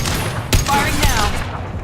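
Gunfire from the video game Mass Effect 2: a couple of sharp reports stand out over a busy combat mix with a voice speaking briefly amid the shooting.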